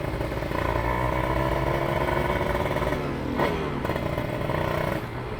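A Kawasaki Ninja two-stroke motorcycle engine held on light throttle while riding, a steady close buzzing drone with rattly tones, a brief dip and blip near the middle, running continuously throughout.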